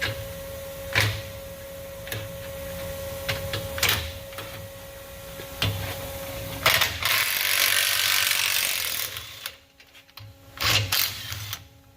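A ratchet wrench torques bolts during a rear axle rebuild on a cammed Ram truck with Yukon parts, with repeated close clicking bursts and mechanical clatter, then a stretch of broader metallic noise, and no talking.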